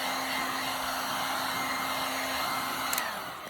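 A hair dryer blows steadily to dry fresh paint on a guitar: a loud, continuous whooshing roar with a constant motor hum that runs unbroken throughout, alone without any talk.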